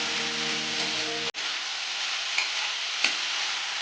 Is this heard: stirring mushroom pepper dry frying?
yes